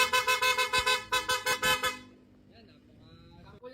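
A Bosch EC6 horn fitted to a Honda ADV 160 scooter blares in a rapid series of loud, close honks, then stops, leaving quiet background sounds and faint voices.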